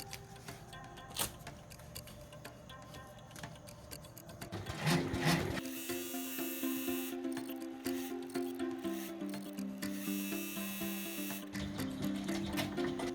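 An embroidery machine sews a final placement stitch, first a softer ticking patter, then a louder steady rapid mechanical chatter with a whirring hum that carries on alone to the end.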